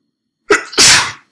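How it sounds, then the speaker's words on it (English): A single loud, close sneeze, with a short inhaled lead-in followed by a sharp, forceful burst. "I keep having to stop the sneeze"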